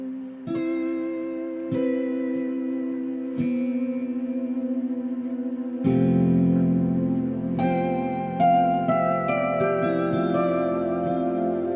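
Fracture Sounds Hemisphere ambient cinematic instrument with its lo-fi effect at full, playing sustained chords thick with echo, reverb and slight distortion, growing denser and louder midway as new notes enter; no voices.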